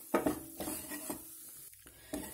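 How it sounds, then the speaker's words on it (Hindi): Dry ginger roasting in ghee for laddoos sizzles faintly while a spoon scrapes and stirs the pan in a few distinct strokes, close and quiet. "अभी ये जो सौंठ है हम इसको भी ठीक से घी में भून लेंगे"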